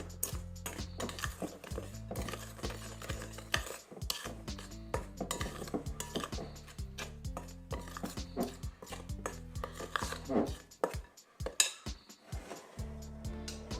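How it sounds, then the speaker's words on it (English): A spoon stirs festival batter in a bowl, flavoured with a pinch of cinnamon powder, giving repeated close clinks and scrapes against the dish in an uneven rhythm, with no talking over it. "I'm just gonna use my spoon and give it a mix."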